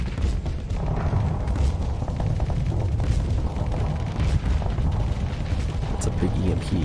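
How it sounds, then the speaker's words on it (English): Mjolnir cannon fire in the space combat game Starsector, a dense rumbling barrage of heavy booms blending into a continuous loud roar throughout, with no clear gaps between shots. "Oh yeah, Mjolnir cannon for the win"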